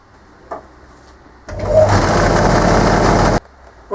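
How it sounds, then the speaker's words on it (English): A small drill press grinds tips onto screws, starting abruptly and holding a steady, loud, rough whine for about two seconds before cutting off, with a faint tap beforehand. "What I just did was grind some tips on these screws."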